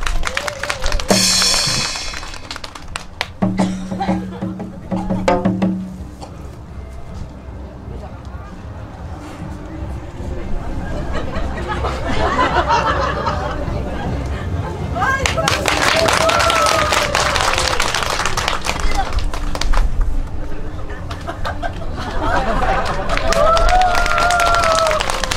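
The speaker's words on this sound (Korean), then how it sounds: "잘하라고 박수 한번 쳐주세요." An outdoor audience at a pumba performance in Gurye claps along in bursts, with loud amplified performer talk and music in between and crowd murmur throughout.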